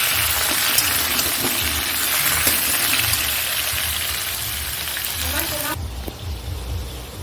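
Rohu fish roe fritters in a besan and rice-flour batter fry in refined oil, giving a loud, steady, broadband sizzle that runs unbroken throughout the clip.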